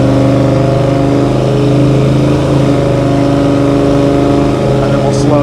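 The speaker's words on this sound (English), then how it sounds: "We'll let you hear the exhaust." A 1966 Chevrolet Chevelle with a big-block engine drives along with its exhaust note prominent. It gives a loud, deep, steady burbling drone with strong tonal layers and a slight swell as the revs shift.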